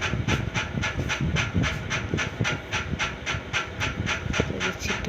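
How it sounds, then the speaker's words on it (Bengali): Spice paste of onion, green chili and a piece of tomato frying in a pan makes a dense, steady sizzle close up. Faint regular pulses of stirring run under it, and no one speaks. "এখন মশলাটা এখন ভেজে নেব।"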